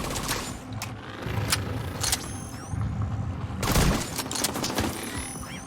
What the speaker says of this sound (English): I'm liking the sniper rifle.